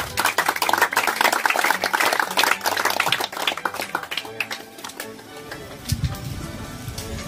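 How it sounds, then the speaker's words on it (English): An audience at a presentation of affordable Hamlet apartments in Lagos, Nigeria, claps together in a loud, dense burst of applause that fades over several seconds, with no speech over it. "I thought I would get a round of applause there."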